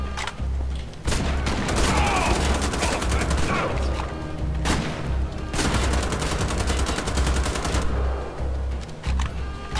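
A machine gunner opens fire in Wolfenstein: The Old Blood, loud sustained bursts of automatic gunfire layered with heavy impacts, a short pause near the start and another midway before the shooting resumes.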